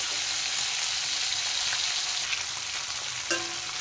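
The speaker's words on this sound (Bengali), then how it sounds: "ফুলকপিগুলো কিন্তু ভালো করে ভেজে নিতে হবে।" Cauliflower pieces fry in hot oil in a pan with a steady, dense sizzle close by, a few faint scrapes and clinks breaking through, and no talking.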